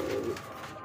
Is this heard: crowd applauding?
no